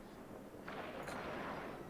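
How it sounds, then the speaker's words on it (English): Drones and ship cannons fire in the space game EVE Online, a continuous low rumbling barrage of blasts that thickens and swells partway through, with no distinct gaps between shots. "My drones are shooting at it, and I'm shooting at it."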